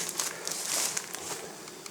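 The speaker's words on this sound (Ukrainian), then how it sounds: "Льот бджоли хоч і в плюс 40, але набагато веселіше, ніж той, який був ще тиждень тому" Honeybees fly around hives in a hot steppe apiary near blooming sunflowers, giving a soft, airy buzzing hiss with faint ticks and bumps close by.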